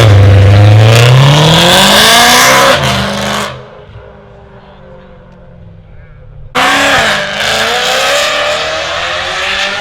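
A BMW G80 M3 engine revs hard and close, climbing in pitch with a loud rasp, dropping away into a lull, then surging back with a second sharp rev.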